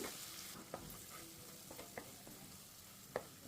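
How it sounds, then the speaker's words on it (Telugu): Thinly sliced onions and curry leaves fry quietly in oil in a pan, a soft steady sizzle with a few distinct spoon scrapes and taps against the pan. "సన్నగా తరిగి పెట్టుకున్న ఉల్లిపాయలు కరివేపాకు కూడా వేసి వేగి వేగించాను"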